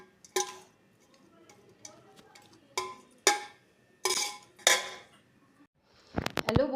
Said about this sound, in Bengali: দিয়ে আবার ভালো করে নেড়ে চেড়ে দেবেন।